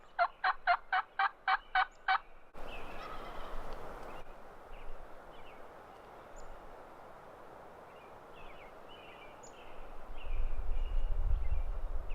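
A wild Merriam's turkey gobbler gobbles in a quick, rhythmic burst of rattling notes, then the woods go quiet apart from faint birds and a low rumble.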